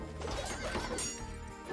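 Horses neigh and whinny amid hoof clip-clop in the Age of Empires Definitive Edition strategy game, several loud overlapping calls over a dense game soundscape with no talk.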